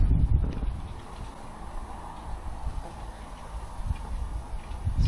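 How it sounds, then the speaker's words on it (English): Wind buffets the microphone in a steady low rumble with gusty swells, running the whole time outdoors by a river with no voices. "I say it's a bit windy."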